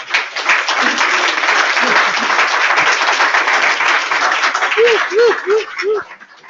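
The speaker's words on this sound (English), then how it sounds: "So we're going to give Mr. Bono a round of applause." An audience at a practitioner seminar claps steadily for a speaker, a dense burst of applause that swells and then fades, with voices talking over it and a few short vocal sounds near the end.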